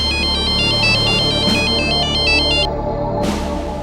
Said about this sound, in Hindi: दूसरे दिन एक और फोन कॉल ने इस सन्नाटे को चीर दिया।